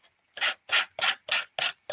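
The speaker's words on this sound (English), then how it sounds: "I just use a nail file that I got from the Dollar Tree and just do this" A dollar-store nail file rasps the napkin edges off a wooden circle Christmas ornament in five quick, even strokes, close up and crisp, with brief silences between them.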